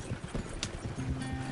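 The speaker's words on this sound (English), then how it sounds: "Horses won't go this fast for long." Horses gallop hard in Red Dead Redemption 2, a rapid, close clip-clop of hooves in irregular clusters with a low rumble underneath and a brief higher tone near the end.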